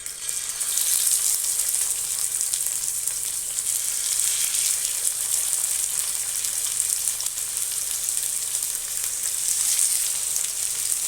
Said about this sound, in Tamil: இப்போ தோசைக்கல்லில் வறுக்கலாம். எண்ணெய் ஊற்றிக்கலாம். இப்போ மீனை போடலாம்.